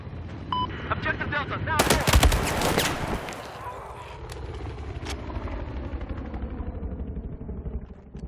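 Battlefield 4 gunfire, rapid automatic bursts rattling loudly alongside an engine drone, then fading into a lingering rumbling echo and scattered distant shots.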